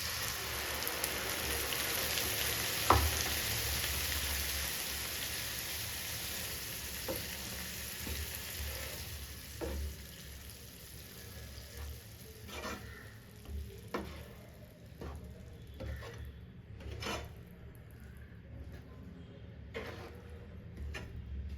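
Ground spice paste sizzling in hot oil in a pan for a peanut and bean gravy, a loud steady frying hiss that fades over time while a spoon scrapes and stirs with intermittent clicks and taps.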